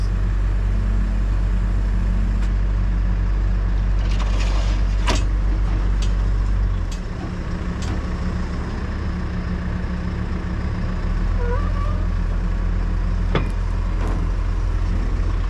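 A heavy excavator rumbles loudly nearby as its track is spun, deep continuous engine drone with a shift in pitch midway and scattered metallic clanks and squeaks from the moving track.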